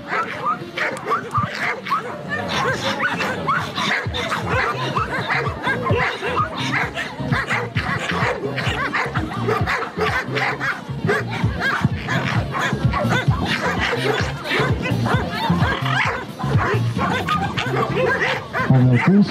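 A Malinois barks and yelps in rapid, loud bursts during bite-work training with a decoy and sleeve, continuous agitated barking with whimpers, while a handler speaks over it.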